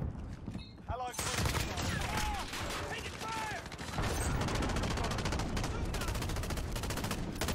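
Rapid automatic gunfire from a modern military shooter, Call of Duty: Modern Warfare (2019) multiplayer, rattling in dense bursts for the whole stretch, with game voice callouts and sharp ricochet-like chirps over it.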